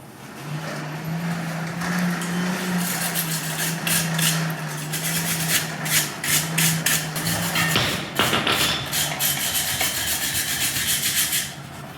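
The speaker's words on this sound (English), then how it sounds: "set one side on the anvil, draw this, drive that side and drive them together" Hot steel pieces hammered together on an anvil for a forge weld, a quick run of sharp, loud metallic strikes over a steady background hum, with no talking.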